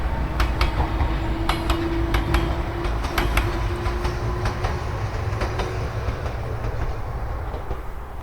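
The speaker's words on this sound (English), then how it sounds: "There's a train going the opposite direction." A train on Japan's Kishigawa Railway rumbles past close by, its wheels clacking in irregular bursts over a loud, steady roar.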